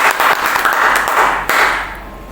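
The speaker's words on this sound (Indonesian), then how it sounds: "Beri tepuk tangan dulu pada Pak Sigit." Applause from an audience at a teachers' sharing session, a steady dense wash of many hands clapping, fairly loud and close, with a brief surge partway through and no talk over it.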